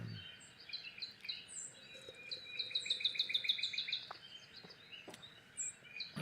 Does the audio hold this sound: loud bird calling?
yes